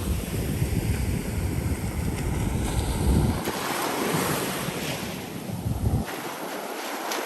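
Ocean waves wash in and recede over calmer water, with heavy wind buffeting the microphone and rumbling through the low end, no voices.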